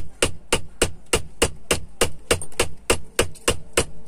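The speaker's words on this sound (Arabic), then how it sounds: "مرزبه او شاكوش كبير شويه، ومعانا شاكوش صغير" A sledgehammer and a small hammer strike metal in a workshop, about fifteen sharp, loud blows in a fast, even rhythm, each ringing briefly before the next.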